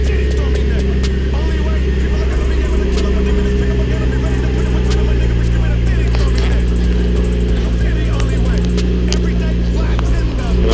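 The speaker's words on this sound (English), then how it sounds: "And I'll show you him driving off." A Nissan 350Z pulls away at night, its engine droning loudly and steadily throughout with a low rumble and mid-range growl, and some speech faintly underneath.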